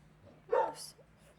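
A single short, faint dog bark sounds in a quiet room, with no other noise around it.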